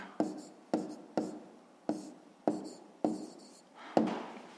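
Handwriting numbers and fractions on paper gives seven crisp, scratchy pen strokes at a regular pace, each a sharp attack fading quickly, close and quiet.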